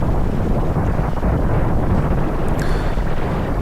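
Swirling wind rushes over a cyclist's microphone during a wet Cat 4 criterium race, a loud, continuous roaring buffet with steady low rumble throughout.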